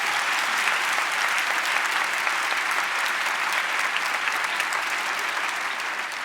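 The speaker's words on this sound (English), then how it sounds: "More round of applause." A debate audience applauds the speakers in a #MeToo debate with a thick, even roar of clapping that holds steady throughout, continuous and unbroken.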